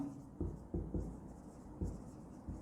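Pen strokes on paper while writing out a bank reconciliation statement, heard as several soft scratchy bursts at irregular intervals, close and fairly quiet.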